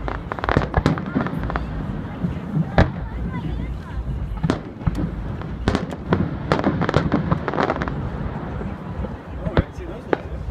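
Canada Day fireworks burst in a rapid, irregular series of sharp cracks and booms at middle distance, with people talking among the explosions.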